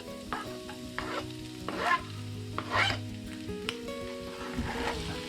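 Garlic sizzles in olive oil in a pan for a spaghetti bolognese, a steady close frying hiss broken by repeated scraping stir strokes.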